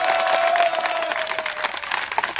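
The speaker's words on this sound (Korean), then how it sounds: "동의했습니다. 박수 한번 주시죠." A crowd at a farmers' rally breaks into steady applause, dense clapping that swells at first and then thins out slightly over a couple of seconds.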